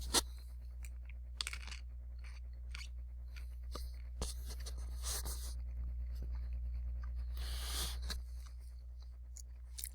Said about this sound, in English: I have an almond up here. Sorry about chewing in class.